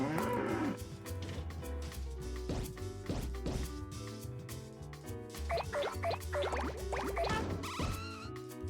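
Cartoonish cow moos from the Katamari Damacy video game sound over upbeat game music with whacks and clatter from objects being rolled up, with several short calls spread across the stretch.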